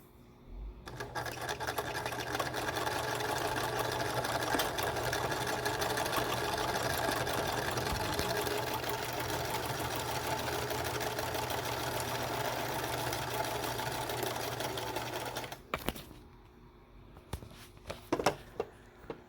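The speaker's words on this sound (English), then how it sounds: "On this one, I am going to be back stitching at the top and the bottom, but I will still continue doing it in a chain." A sewing machine backstitching a fabric mask runs in a fast, steady mechanical whir for about fifteen seconds, then stops, leaving a few brief clicks and handling knocks.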